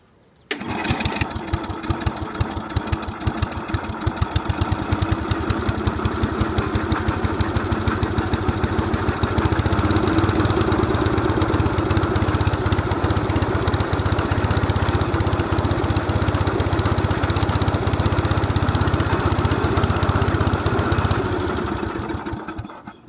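A Simplicity lawn tractor engine starts up and runs steadily for about twenty seconds, a loud, close mid-pitched putter with a rapid firing rhythm that grows slightly fuller partway through before cutting off at the end.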